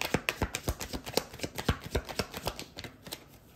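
Tarot cards are handled and laid out, producing a fast string of light papery taps and flicks at an even rhythm, near and fairly soft, with no talking.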